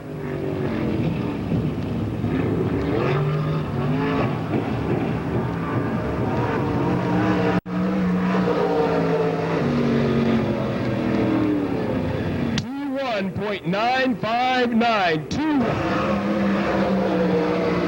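Ford-powered Bullet Racing chassis stock car at Pennsboro Speedway in a 1995 STARS race, engines roaring past loudly with a burst of passing cars later on, under a public-address announcer's voice.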